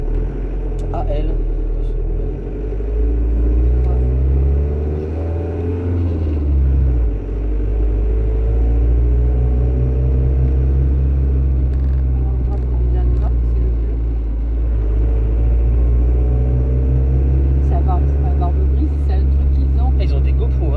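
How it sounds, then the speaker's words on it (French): Heavy trucks rumble past at a border crossing. A loud, low engine drone swells and fades as the vehicles move by close at hand, and a voice speaks briefly over the noise. "Tous les camions, ils vont passer avant nous."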